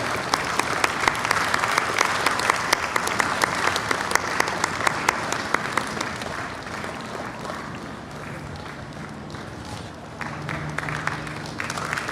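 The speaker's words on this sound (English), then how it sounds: "Let's give a big round of applause to Miss Maureen Evans" Large festival crowd applauds an honoree at a culture festival, a loud, continuous dense roar of clapping that dips slightly midway and carries on with a faint tonal hum underneath.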